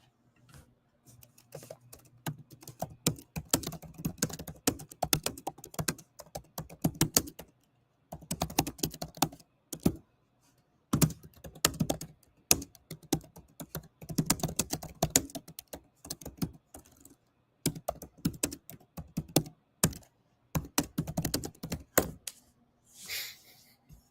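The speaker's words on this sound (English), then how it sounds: "Let me bang on my keyboard a little bit." Long stretches of fast, clattering keystrokes on a computer keyboard, close up, broken by short pauses between bursts of typing.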